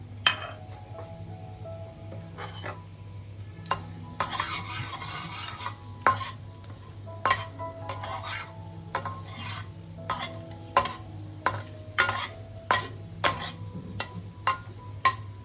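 Whole cumin, bay leaf, dried red chilli, green cardamom, cloves and cinnamon sizzle in hot oil in a kadai, with a steady frying hiss broken by repeated sharp scrapes and taps of a spoon stirring against the pan.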